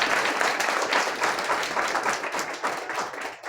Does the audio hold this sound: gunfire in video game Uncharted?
no